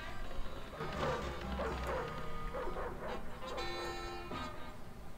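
A cartoon dog in the Ed, Edd n Eddy video game yips and barks several times, mid-loud, over continuous game music.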